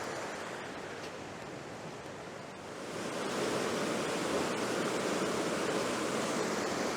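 Rushing river water on Dartmoor in autumn, a steady broadband roar that swells louder partway through, with no voices.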